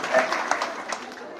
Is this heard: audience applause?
yes